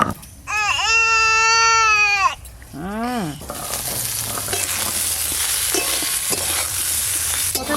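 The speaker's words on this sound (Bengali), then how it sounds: "প্রথমে আলু আর ডাঁটা একটু ভালো করে নেড়ে নিলাম।" Potatoes and drumstick stems stirred in a frying pan give a steady, close sizzle through the second half, after a few loud, baby-like wailing cries at the start.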